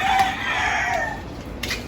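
Pet fowl, called kakatil birds, giving a drawn-out crowing call close by, loud and sustained for over a second, then a short fainter call near the end.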